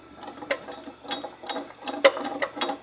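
Wrench ratcheting a bolt loose from the water pump housing of a 2008 Nissan Altima, giving a series of short, close clicking bursts in an irregular rhythm with small pauses.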